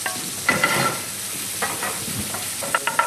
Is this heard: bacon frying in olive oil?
yes